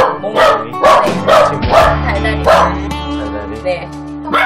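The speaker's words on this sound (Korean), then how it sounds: "훈련사를 보자마자 사정없이 지저대는 몽이" Small dog barking and yipping excitedly at a visiting trainer indoors, a rapid run of close, loud barks with a whimpering edge, overlapped by people talking.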